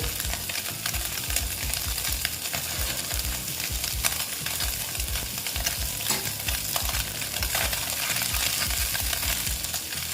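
Small fish frying in hot oil in a pan, giving a steady, close, crackling sizzle that runs unbroken for the whole stretch with no voices.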